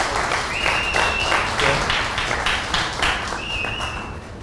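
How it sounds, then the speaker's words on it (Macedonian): An audience at a talent show semifinal applauds the group Kruna, a steady, dense wash of clapping that stays loud and even throughout, with a faint whistle or two riding over it. "Благодарам дечките на аплаузот за дечките"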